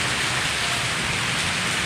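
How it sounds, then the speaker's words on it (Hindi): Steady rain falls and patters on nearby surfaces, a close, dense, continuous hiss with no voices. "बारिश शुरू हो गई है"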